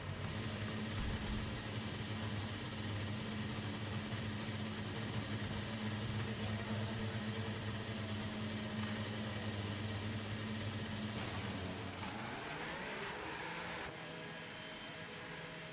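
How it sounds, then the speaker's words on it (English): An F1 race car engine idles in the garage in the F1 25 video game, a steady droning hum with tonal whine that holds throughout, then shifts and sweeps upward near the end as the car pulls away. "Okay, engines fired up. We're set."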